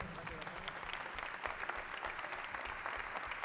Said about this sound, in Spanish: Un fuerte aplauso a Finetwork Gijón.